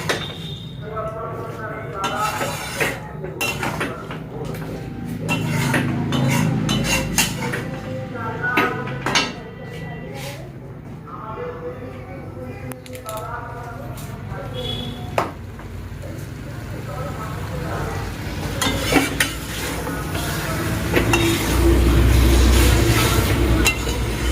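Meat for bhuna khichuri is stir-fried in a pot, with a spatula scraping and clinking against the metal again and again over a steady cooking hiss.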